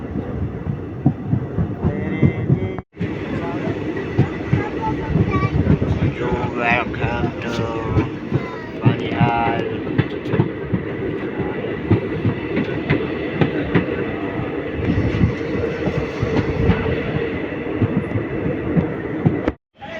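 A train pulls into Banihal station in Kashmir just after leaving the 12.5 km Banihal tunnel, with a steady loud rumble and rattling of the cars throughout and a brief break near the start.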